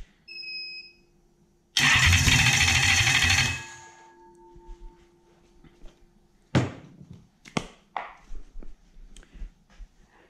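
Toyota 1UZ-FE V8 engine in cold weather, lacking a cold-start system, cranks with a loud burst of roughly two seconds and then fades into a quieter run, followed by scattered knocks and clunks.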